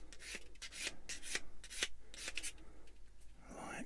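A model kit part being dressed up with a sander, a series of short rasping strokes in quick rhythm, close and fairly quiet, ending in a longer scrape.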